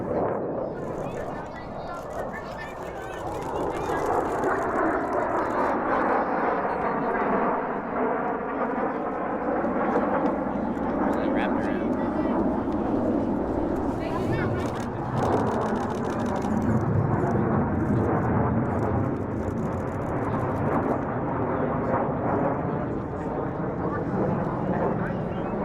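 A T-38 jet trainer flying at a military airshow: a loud, continuous jet roar whose pitch sweeps audibly as the aircraft passes, sustained throughout with a second surge partway through.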